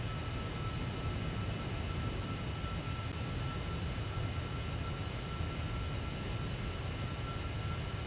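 Boeing 747-400 on approach to land in Flight Simulator X, a steady broadband jet engine roar with airflow noise, constant and unbroken.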